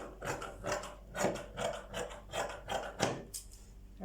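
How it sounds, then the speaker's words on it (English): Scissors cutting dress fabric toward the armhole of a one-shoulder flare dress, with rhythmic crisp snips and rasping blade strokes repeating about twice per second, close and fairly quiet. "Then from here now, I'll cut it right to the armhole point."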